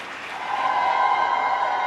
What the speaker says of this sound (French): Je voudrais, sur vos acclamations, une ovation très forte